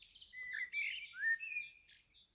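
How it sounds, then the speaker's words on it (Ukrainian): Small birds chirp and tweet in a quiet, calm garden on a warm, windless evening, a few short bright calls trading back and forth with near silence underneath. "зазвичай, як так співають пташки, то в нас вже квітують півоні"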